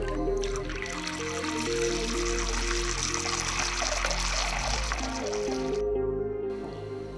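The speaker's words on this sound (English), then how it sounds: "Take a water trough and half fill it with water." Water poured into a half-filled water trough for a school chemistry practical, a steady close trickle running for several seconds alongside a low continuous hum, then tapering off near the end.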